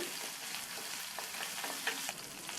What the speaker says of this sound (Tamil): இது கூட கட் பண்ண 2 பச்சை மிளகாவை லேசாக வதக்கி விட்டுட்டு